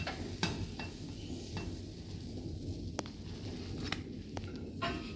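An omelet cooking in a pan gives a low, quiet sizzle throughout, punctuated by several short, sharp spatula taps and scrapes, close by, no one speaking.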